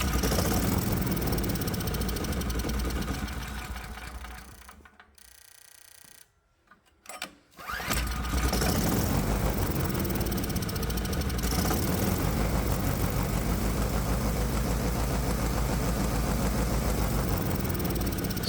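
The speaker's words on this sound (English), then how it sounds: "Let's try that again, but this time I'll try to keep the engine running just from the prime button." A Predator 212cc small engine fitted with a simple fuel injection system runs with a loud, steady, close chug, cuts out briefly, sputters, then restarts and settles back into a steady rumble.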